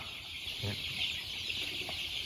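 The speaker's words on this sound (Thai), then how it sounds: "ให้ดูบรรยากาศของไก่ ไก่น้อยแล้วกันเนาะ" Small chickens of a Thai three-blood crossbreed cluck softly over a steady high-pitched hiss, with a couple of brief low clucks standing out.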